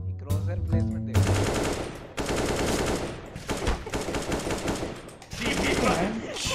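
Rapid gunfire from the video game CS:GO crackles in dense, loud bursts with short pauses between them, and a voice can be heard in the mix.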